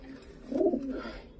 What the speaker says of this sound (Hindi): एक ये है कबूतर